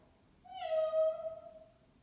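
A voice imitates a cat with a single drawn-out meow, rising then falling, clear and fairly quiet, during a children's yoga session in cat pose.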